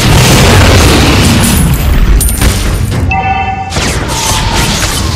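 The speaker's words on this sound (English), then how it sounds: "Our turret has been destroyed." Turret destruction explosion in the Mobile Legends mobile game: a loud, dense boom with crackling bursts, followed by a brief ringing chime and continuing game effects.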